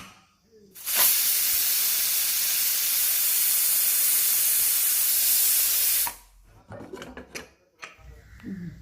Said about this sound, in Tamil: குக்கரை மூடி வெயிட் போட்டதுக்கப்புறம் 3 இல்லை 4 விசில் வரணும்.